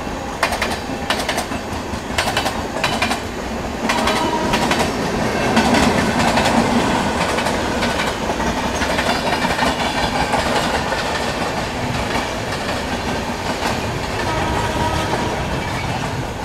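The Golden Temple Mail passenger train races past at high speed, a loud rushing rumble with rapid clickety-clack of wheels over rail joints and sharp clatters early on, continuing steadily without speech.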